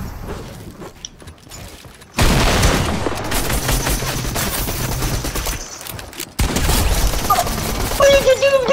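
Sustained, loud bursts of gunfire in the video game Fortnite, dense and continuous after a quieter start, with a brief pause before the firing resumes; no talking.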